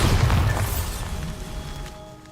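Bombarda explosion spell cast in the Hogwarts Legacy video game, a loud booming blast at the start that rumbles and slowly decays over about two seconds with no talking.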